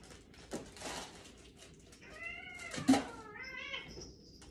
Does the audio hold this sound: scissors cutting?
no